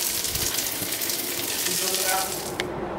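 Food frying in a pan in a home kitchen, a steady broadband sizzle that stays loud and close throughout before cutting off abruptly near the end.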